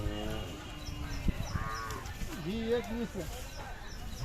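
Khillar cattle and bulls at a crowded livestock fair give a few drawn-out moos amid the murmur of a bustling crowd, with people talking nearby throughout.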